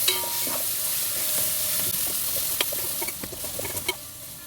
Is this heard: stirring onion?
yes